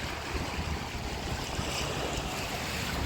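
Sea waves washing on a Turkish beach in Kümköy in late October, a continuous soft wash mixed with light wind noise, steady and fairly faint, no voices.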